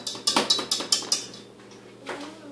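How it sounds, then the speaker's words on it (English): A spatula scrapes and taps against a bowl of strawberry yogurt mixture, a quick series of about six sharp, close knocks followed by a pause and one softer scrape. "Stuff it down there with my mix and scrape spatula"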